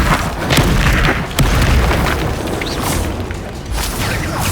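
A Bombarda spell blast in the video game Hogwarts Legacy, booming loud and dense with low rumble and crashing debris, a sharp hit near the start and another partway through, set against continuous battle noise.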